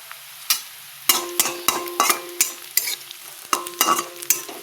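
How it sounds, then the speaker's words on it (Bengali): Green chilies are dropped into hot oil over lightly fried onions for a rohu fish and potato curry, sizzling steadily under a run of sharp, rhythmic spatula clacks and scrapes against the pan. "এবার লঙ্কা দিয়ে দিলাম।"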